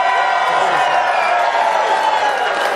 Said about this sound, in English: Very passionate crowd.